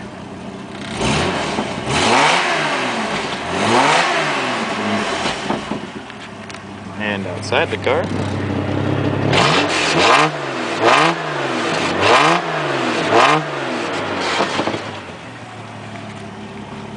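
A 1965 Dodge Dart GT slant six engine revs repeatedly in rising and falling bursts, loud and close, with a deep rumbling exhaust note through a 2.5-inch exhaust and 18-inch Cherry Bomb muffler; someone speaks briefly over it.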